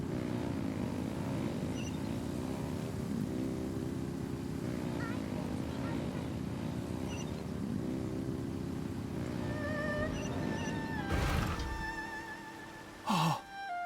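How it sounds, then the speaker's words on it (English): Engines rev in Genshin Impact, a steady droning motor hum with a wavering pitch that ends in sharp bursts and clatter, mixed with game sounds. "Rev the engines!"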